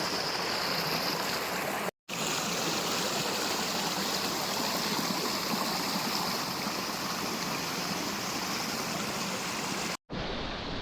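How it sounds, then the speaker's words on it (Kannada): Water rushes loudly and steadily in a roadside stream swollen by monsoon rain near Karkala, a dense continuous roar broken by two brief silent gaps. "ಇವಾಗ ಚೆನ್ನಾಗಿ ನೀರು ಹರಿತಾ ಇದೆ ಮಳೆ ಬಂದು ನಿಂತಿದೆ"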